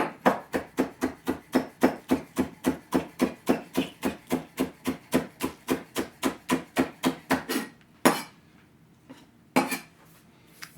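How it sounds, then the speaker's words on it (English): A knife chopping cilantro and green onion on a board, about thirty quick, evenly spaced knocks in a steady rhythm, close and crisp, then a pause and two final taps. "I'm going to chop up some cilantro. And some green onion."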